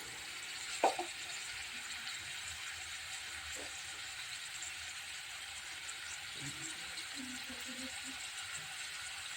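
Ginger garlic paste frying in hot oil for ivy gourd masala curry, a steady soft sizzle throughout with a few clinks of a utensil and a voice talking over it.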